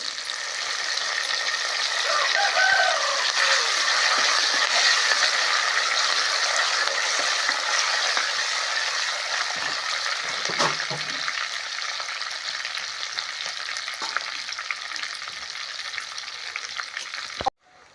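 Curry leaves crackle and sizzle in hot oil along with cumin seeds, a steady loud frying hiss with scattered pops that softens slightly toward the end, ending in a sharp clank; no one speaks.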